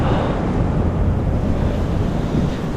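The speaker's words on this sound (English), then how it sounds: "It's a bit windy." Strong wind buffets the microphone at the seashore with a continuous loud roar and a wash of surf underneath, with no voices.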